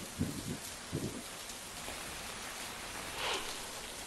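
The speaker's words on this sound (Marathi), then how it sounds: "चिपळूण परिसरामध्ये देखील मुसळधार पाऊस पडलाय" Heavy rain falls steadily in the Chiplun area, a faint even hiss of downpour with a few soft thuds near the start.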